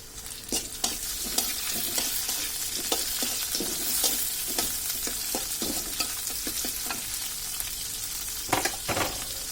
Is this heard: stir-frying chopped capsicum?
yes